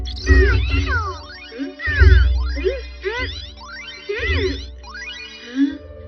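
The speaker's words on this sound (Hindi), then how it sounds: "ये तो सुनियो की बिल्ली चीरू चीरू है ना?" A cartoon cat in a Hindi-dubbed Doraemon episode meows repeatedly, several drawn-out cries in a row, with a faint jingle and some background music.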